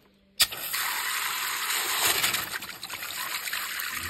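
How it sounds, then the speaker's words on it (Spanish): An electric water pump for a shower in a VW Crafter camper van kicks on with a sharp click, then runs as a steady whirring hum over rushing, trickling water throughout. "Le damos y ahí ha empezado a trabajar la bomba."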